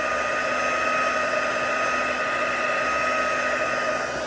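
A heat gun blows steadily and loudly, melting embossing powder on a handmade Christmas card, with a constant whirring hum and no pauses or talk.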